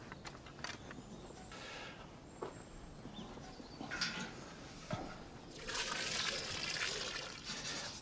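Stagnant, greenish water from a garden water butt poured onto plants, a steady outdoor trickle and splash that swells louder toward the end, with faint birdsong in the background.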